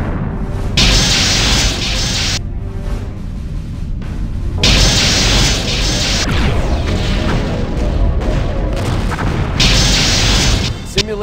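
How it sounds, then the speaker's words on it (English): An enemy starship blows apart in a Star Trek space combat game, a refit Constitution-class battle against TIE fighters, heard as several loud roaring explosive bursts separated by quieter rumbling stretches. "Simulated enemy ship has been destroyed."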